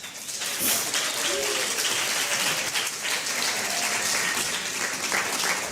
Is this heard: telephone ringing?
no